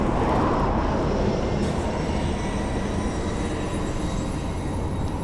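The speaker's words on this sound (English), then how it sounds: "Oh, plane." A jet airliner on approach to SeaTac Airport passes overhead along a bike trail, a loud continuous broadband roar with a slowly falling whine, steady and close for the whole stretch.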